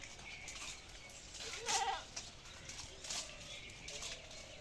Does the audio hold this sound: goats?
yes